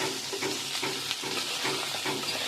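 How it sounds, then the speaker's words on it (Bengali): Cauliflower coated with turmeric is stir-fried in a pan, giving a steady close sizzle with repeated rhythmic scraping strokes of stirring throughout. "এবারে নেড়ে চেড়ে ভেজে নেব আমি"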